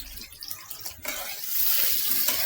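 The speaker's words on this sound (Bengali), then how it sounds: "এখন তেলটা একটু গরম হলে এই যে পেঁয়াজ দিয়ে দিচ্ছি অনেকখানি।" A generous batch of onions dropped into hot oil, with a sudden sizzle that starts about a second in and swells into a steady, bright frying hiss.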